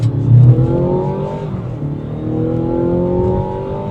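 A Mazda CX-70 plug-in hybrid SUV launches in sport mode for a 0 to 60 run, its engine note climbing through gears in loud, rising sweeps heard from inside the cabin.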